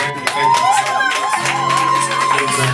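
Crowd at an open mic night cheering, shouting and clapping after a live rap performance, a dense steady roar with whoops, and a voice talking over it.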